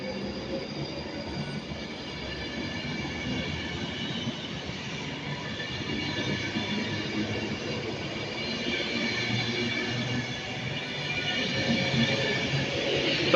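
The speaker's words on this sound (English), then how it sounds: "Now leaving on the slightly delayed 1724 service to Manchester Piccadilly is 39045." Passenger train leaving Milton Keynes Central on a Manchester Piccadilly service, a continuous rolling rumble with wheel noise that grows slightly louder over the span, with no talk.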